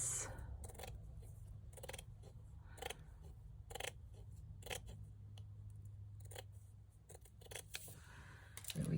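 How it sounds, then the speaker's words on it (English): Scissors snip through a row of decorations in a quick run of crisp, close cuts that repeats steadily over a faint, low background hum. "let's trim off one row of this"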